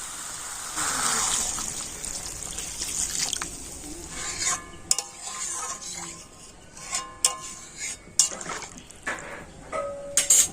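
Water is poured into a pan of spiced potato and cauliflower curry, a soft gushing pour followed by clinks and knocks of utensils against the pot.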